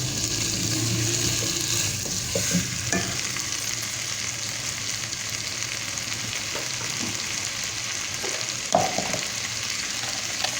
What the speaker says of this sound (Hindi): और थोड़ा इसको भूनेंगे ताकि टमाटर अच्छी तरीके से इसमें मिक्स हो जाए और मसाला उसमें जल्द हो जाए।